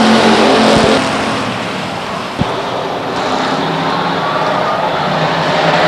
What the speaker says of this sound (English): Racing action off of turn 2.